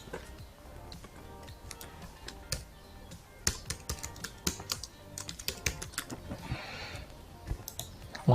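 Fast, close typing on a computer keyboard, bursts of crisp key clicks that grow denser and louder partway through, with no speech.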